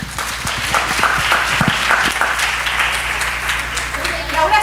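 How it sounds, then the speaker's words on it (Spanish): Audience applause for Laura at a talk on STXBP1 dynamic communicators, a steady wash of clapping from a room of people with some lower hum and a voice or two underneath. "Un aplauso, por favor, para Laura."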